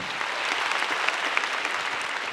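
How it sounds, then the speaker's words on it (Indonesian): A studio audience claps for a performer at a grand final, a brief burst of steady, dense applause heard clearly with no voices over it. "boleh tepuk tangan buat Gautama dong"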